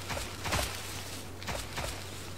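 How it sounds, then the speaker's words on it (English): Footsteps in the horror video game DESCENT land as a few dull, heavy thuds at a slow walking pace, muffled under a steady hiss of background noise. "God, I walk so loud."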